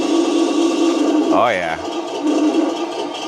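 A Taigen T-34 RC tank's simulated engine idles with a steady, close hum of harmonic tones, while someone speaks briefly over it in the middle.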